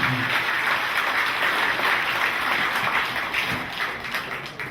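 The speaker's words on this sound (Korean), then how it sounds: "큰 성원의 박수 한번 부탁드립니다" An audience at a reunion ceremony marking a 40th commissioning anniversary applauds the outgoing association president and officers, a dense sustained roar of many hands clapping that gradually thins and fades toward the end.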